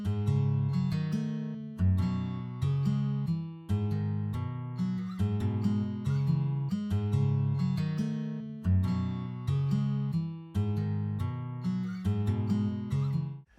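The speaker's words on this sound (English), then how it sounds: "This one is called Acoustic Guitar Free" A free acoustic guitar VST plugin plays a steady run of strummed chords, each strum cutting in sharply and ringing out over about fourteen seconds, with no voices.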